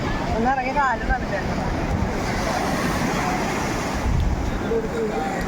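Sea waves surge and wash steadily on the beach at Velankanni, a loud continuous roar mixed with wind buffeting the microphone, while people talk over it.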